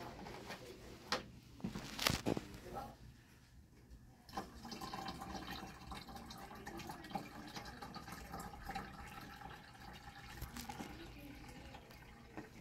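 Distilled water pours into a steam sterilizer autoclave reservoir, a continuous soft splashing trickle with a few louder gurgles and knocks near the start, then an even, steady flow.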